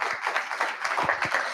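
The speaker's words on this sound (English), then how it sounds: "Give it a round of applause." An audience at a hackathon judging session claps in a brief, fairly soft burst of even applause.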